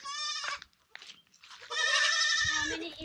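Several goats bleat in long, nasal calls close by, one cry, then a pause with faint rustling before a louder, longer bleat, with no talk over them.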